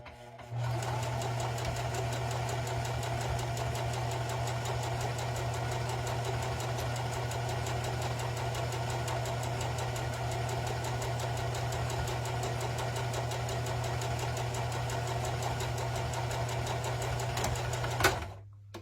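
A sewing machine stitching felt runs steadily for a long stretch with a fast, even mechanical hum and rapid stitching rhythm, stopping near the end.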